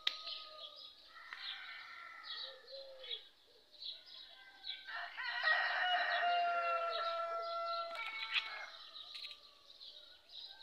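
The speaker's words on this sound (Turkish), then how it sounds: "horozlar ötüyor," A rooster crows in the middle distance amid a lively dawn chorus of chirping birds and cooing doves, with no talking.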